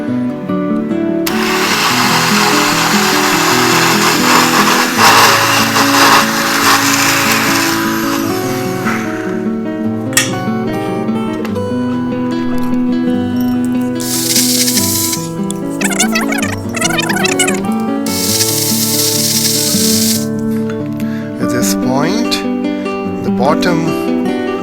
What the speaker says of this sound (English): And now I'm going to grind them without water.